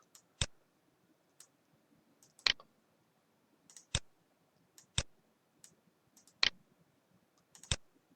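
Computer mouse clicks while building groups in a network modelling program, six or seven sharp, isolated clicks spaced about a second apart, close and fairly quiet against near silence.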